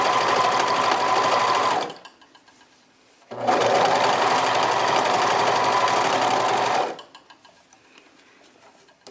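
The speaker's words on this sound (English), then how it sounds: "I'm sewing it with the neckband facing up and the garment underneath." Sewing machine stitching a rib knit neckband onto a t-shirt runs in two steady, close-up whirring bursts with a short pause between them, then stops.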